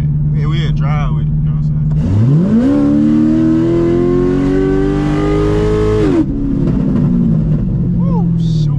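A tuned header-only C6 Corvette engine revs loud and close under acceleration, its pitch climbing steadily for about four seconds before dropping off. Voices are heard before and after the pull.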